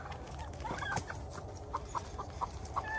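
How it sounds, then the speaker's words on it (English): A rooster on a farm with goats gives a run of short, quiet clucks, repeated at a steady pace over faint background farmyard noise. "Rooster."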